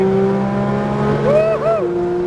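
Race car engine at full power on a cone-marked course, a loud close steady drone with pitch sweeping up and dipping briefly as it accelerates, with no talk over it.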